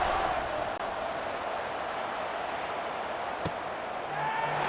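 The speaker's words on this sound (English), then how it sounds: "this crowd is buzzing after that last score" Stadium crowd in College Football 26, a UL Monroe home game against Rutgers, buzzing right after a scoring drive as the kickoff nears. It makes a steady, dense roar that holds even throughout, with a brief sharp knock partway and talk mixed in.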